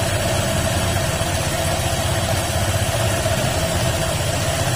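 A Honda PCX160 scooter engine with a noisy CVT and strong vibration idles nearby with its cover off, a steady loud low throb with a rough mechanical rattle and no talking.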